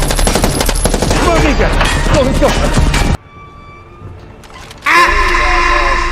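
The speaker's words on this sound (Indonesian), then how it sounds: "DJ langsung mengeluarkan senjata warisan ayahnya, yaitu CJ GTA" Dense bursts of automatic gunfire from a film scene ring out loud for about three seconds, drop into a quieter pause, then resume abruptly.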